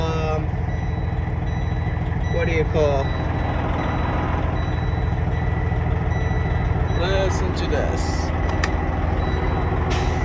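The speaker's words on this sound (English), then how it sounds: "Just listen to this though. The truck has warmed up a little bit." A warmed-up 2012 Freightliner Cascadia glider truck with a Detroit Series 60 diesel engine idles with a steady low rumble throughout. Someone talks over it, with a few beeps and a brief hiss near the end.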